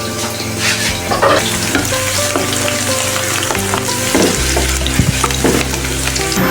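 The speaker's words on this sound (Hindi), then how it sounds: "अब हम इसमें तड़का डालते हैं।" Tempering spices for dal crackle and sizzle loudly in hot oil, a dense continuous frying hiss with occasional sharper pops and a stirring scrape.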